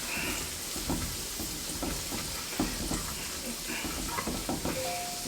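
Garlic browning in a hot pan gives a steady, moderately quiet sizzle and crackle. Occasional stirring taps and scrapes sound through it, with no talking.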